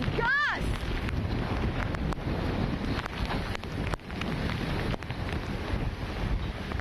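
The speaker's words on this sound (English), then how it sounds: "Look at these gusts." Strong wind gusts from Hurricane Delta roar steadily and loudly across the microphone, a dense, unbroken rush that barely eases, with no distinct voices heard.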